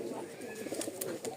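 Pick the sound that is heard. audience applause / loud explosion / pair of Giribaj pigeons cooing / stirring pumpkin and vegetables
pair of Giribaj pigeons cooing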